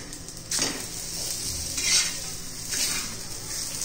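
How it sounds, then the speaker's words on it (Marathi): Potato pieces frying crisp in oil on a pan over medium heat, a close hissing sizzle that swells in a few bursts as they are turned, with light metallic clinks of a utensil. "छान असे खरपूस आपण असे भाजून घेणार आहोत"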